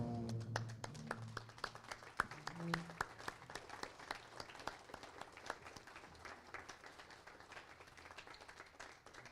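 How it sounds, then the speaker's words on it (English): A club meeting audience rises and applauds steadily, many hands clapping in a dense, even patter that carries on throughout and fades slightly toward the end. "please rise and give her a round of applause"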